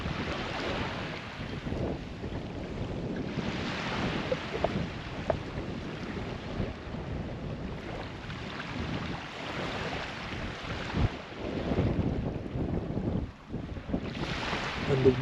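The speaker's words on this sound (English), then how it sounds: "The water's just gently lapping in." Gentle waves lap along the water's edge of a beach at Bowen, Queensland, a steady soft wash of surf under continuous wind noise on the microphone, with no voices.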